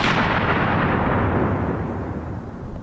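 A fragmentation grenade goes off during a Ranger room-clearing drill: a loud, broad blast that opens at full strength and rolls off slowly over a few seconds, with no voices.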